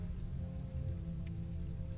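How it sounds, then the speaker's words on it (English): Rain in the Loomian Legacy video game, a steady soft patter of falling rain with a low constant hum beneath, faint and even throughout. "I got the rain scene."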